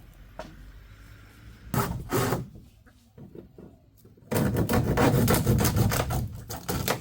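Hand saw rasping through wood in strokes, a short burst, a quieter pause with light scraping, then a longer run of steady, close sawing.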